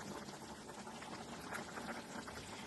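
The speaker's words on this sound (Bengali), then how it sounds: "মাছের ঝোলটা ফুটে উঠেছে" Fish broth boiling in a pot for a rohu fish curry with green tomatoes gives a steady, soft bubbling hiss, faint and continuous throughout with no talking.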